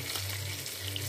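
Salted tilapia fish frying in a pan, a continuous dense sizzle and crackle with a low steady hum beneath, no talking.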